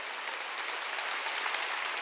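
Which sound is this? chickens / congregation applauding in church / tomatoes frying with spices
congregation applauding in church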